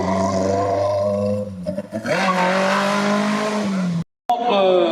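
Race car at a hill climb braking hard with turbo sounds, a loud roaring engine note dropping and then revving again, with a brief cut near the end.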